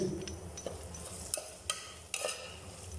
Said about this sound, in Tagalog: ilagay na po natin yung ating sibuyas. Ayan. Haluin natin.